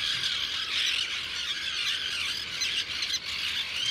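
Puffins call at a seabird colony at sunrise, a dense, continuous chorus of harsh squawking and growling cries, loud and close with many birds overlapping.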